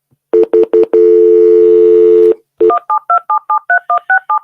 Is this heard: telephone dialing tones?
yes